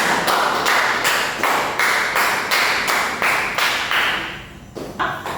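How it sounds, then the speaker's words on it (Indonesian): A small group of students in a group counseling session claps in rhythmic unison, about a dozen sharp, evenly spaced beats that fade out toward the end, heard close and without talk. "tepuk tangan untuk kita semua"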